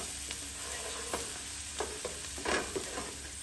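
Onion cooking in a pan for a chickpea, pumpkin and spinach curry: a low continuous sizzle with intermittent spoon scrapes and clatters, the busiest stirring near the end, heard close up without speech.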